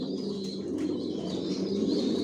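Johnson-line racing pigeons in a loft give low, rolling coos close by, overlapping in a soft continuous murmur with a brief flutter of wings.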